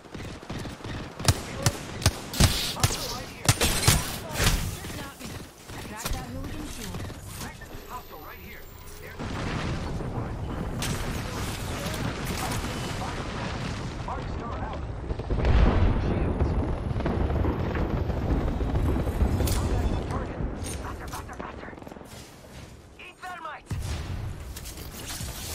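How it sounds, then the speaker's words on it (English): Video game gunfire rattles in rapid sharp bursts at the start, then gives way to a dense, continuous roar of shooting and mechanical clatter that swells midway before tapering off. "Opening fire on the enemy."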